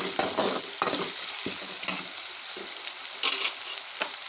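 Onions sautéing in a pan for a Tamil shark dry fish thokku, a steady close sizzle broken by scraping stirs at irregular intervals, with no talking.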